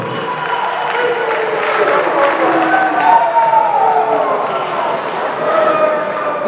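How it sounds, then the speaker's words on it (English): Spectators at a University of Hawaii women's basketball game in the Stan Sheriff Center cheer and applaud in a sustained arena roar, with faint tonal calls rising above the broad crowd noise. "Ladies and gentlemen, give a nice round of applause."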